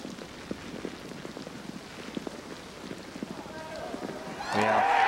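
Rain falls on a golf course during a professional championship round, a soft, steady patter with scattered drops. Faint talk sits in the background, and a louder swell of sound rises in the final second.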